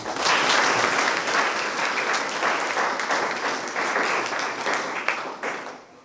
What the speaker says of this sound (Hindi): उनको भी हम तहे दिल से धन्यवाद देते हुए तालियां बजा देंगे।